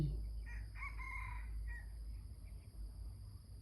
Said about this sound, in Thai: ได้ยินเสียงไก่